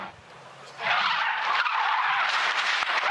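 A race car skids with its rear wheels locked after a suspected brake failure, a loud, steady tire scrape that swells after a quieter start and holds for about three seconds.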